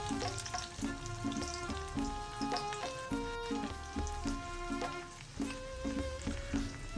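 Baby corn being flash-fried a second time on a high flame for a crispy salt and pepper starter, with steady loud sizzling oil and rhythmic tossing or stirring strokes throughout, no voices.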